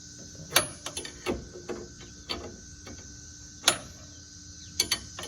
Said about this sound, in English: you're gonna have to use the open end wrench to do it